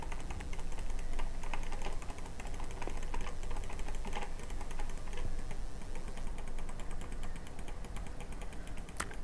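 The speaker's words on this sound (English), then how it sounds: "I'm clicking a lot." Rapid mouse clicking while playing the Tangerine Tycoon video game: a dense, continuous stream of quick clicks at steady volume, with no talking.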